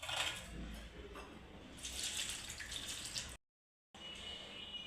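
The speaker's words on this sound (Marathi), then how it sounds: "आता ही हिरव्या मिरच्या स्वच्छ पाण्याने धुवून घ्यायच्या आहेत।" Green chillies get rinsed under running water in a kitchen sink, with faint splashing, trickling and light knocks, a brief silent gap, then the water resumes.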